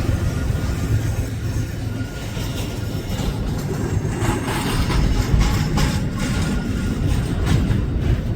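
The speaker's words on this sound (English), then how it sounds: "we have a BNSF intermodal leaving out of East Thomas Yard." A BNSF intermodal freight train rolls out of East Thomas Yard, a steady loud rumble of wheels and cars with clicking rail joints and faint squeals, no voices.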